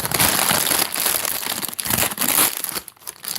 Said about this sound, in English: we're going to take our plastic bag and we're going to slip this over the cord